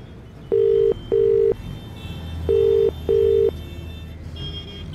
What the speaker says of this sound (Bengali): রেড়াখালে পৌঁছে রিজুদাকে মোবাইলে ফোন করলাম